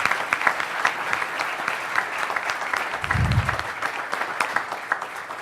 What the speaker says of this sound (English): I think we should all give them a big round of applause for their great work.